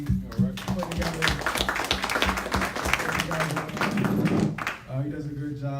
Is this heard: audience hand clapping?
yes